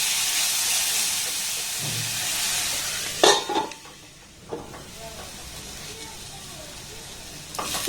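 Beans and carrots fry over a low gas flame in a pan, giving a steady broadband sizzle with a few sharp scrapes and knocks from stirring partway through.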